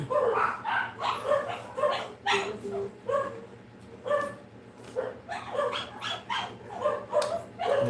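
A dog barks repeatedly in a steady rhythm, about a dozen sharp yaps spread evenly across the stretch, moderately distant and fairly faint, with some voices faintly in the background.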